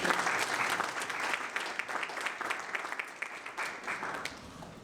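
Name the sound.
audience applause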